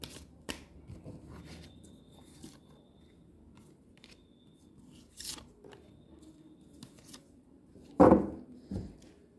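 Tarot cards are shuffled close by in soft rustling riffles and flicks, scattered across a quiet room, with a louder sharp shuffle near the end.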